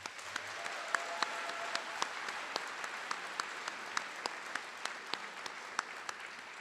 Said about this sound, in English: Please join me in giving our graduation speakers a great round of applause.